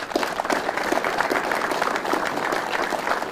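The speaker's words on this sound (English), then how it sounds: "Let's give them a big round of applause." A crowd at a police department gathering claps steadily throughout: dense, even applause from many hands, continuous with no breaks or voices.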